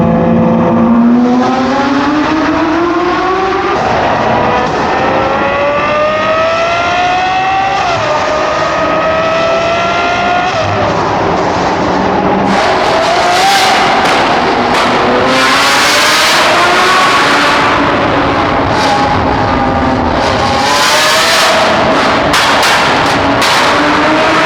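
A Lamborghini SVJ sports car engine revs hard and loud, climbing through repeated rising shifts up close, then roaring on with crackling, harsh bursts as it keeps accelerating.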